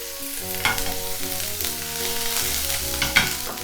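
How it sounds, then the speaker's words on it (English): Smashed ginger and garlic sizzle in sesame oil in a pan, a steady close crackle with light stirring scrapes and occasional spatters, no voices. "And then here I'm going to put in the smashed ginger and garlic."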